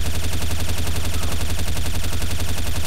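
Rapid machine-gun fire in Counter-Strike Source zombie mod rattles in a loud, unbroken automatic stream with an even, fast rhythm throughout.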